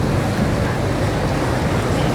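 Water lapping and boat noise along a riverside in Bangkok's Chinatown, a steady broadband wash of waves and engine rumble mixed with wind, with no voices.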